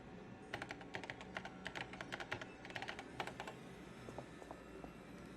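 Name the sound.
typing on a keyboard in Paper Mario video game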